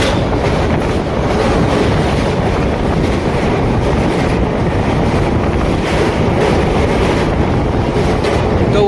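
A train on the Howrah to Haldia line rolling steadily along the rails: a loud, continuous rumble with clickety-clack from the wheels and some wind buffeting, with no voices.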